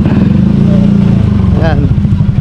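An orange motorcycle's engine running nearby, a loud steady low rumble that continues throughout while someone talks over it.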